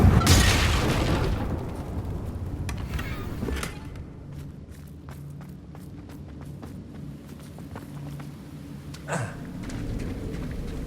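A Confringo fire spell bursts with a loud blast at the start in Hogwarts Legacy, followed by lighter thuds and footstep-like knocks, then a second smaller burst near the end.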